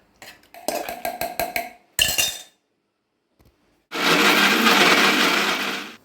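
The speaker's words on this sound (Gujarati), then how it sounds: "ઠંડુ થઈ જાય ત્યારે આ મિક્સરમાં આપણે પીસી લઈશું" Mixer grinder blending boiled beetroot with Kashmiri chilli and garlic for a sweet-sour chutney: clinks and taps of the steel jar being set in place, a pause, then a loud, steady whirring grind lasting about two seconds.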